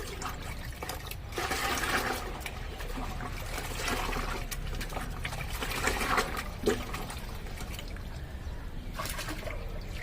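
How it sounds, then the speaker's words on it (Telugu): Water poured into plant pots, a steady liquid trickle and splash that runs continuously at moderate distance. "ఇందులో నాలుగు లీటర్లు పోసిన"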